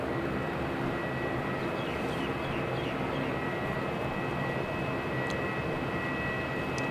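A Qantas Airbus A330 airliner pushing back at Melbourne Airport produces a continuous, loud broadband engine roar with a steady whine, unbroken for the whole stretch, with a few faint bird chirps in the background.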